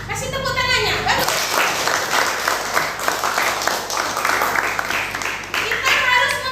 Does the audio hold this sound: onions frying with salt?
no